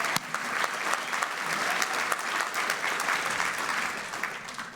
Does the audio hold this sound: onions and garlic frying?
no